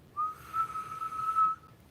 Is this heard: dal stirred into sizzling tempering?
no